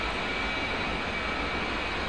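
Steady, loud roar of an aircraft engine running in the DCS combat flight simulator, an unbroken broadband rush with a faint high whine and no change across the short stretch.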